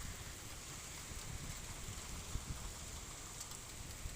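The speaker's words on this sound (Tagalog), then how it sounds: "Ay, biglang naulan." Sudden rain pours at an outdoor mall under a roof, a steady broadband hiss of drops on surfaces with scattered louder patters, fairly faint and continuous with no talk.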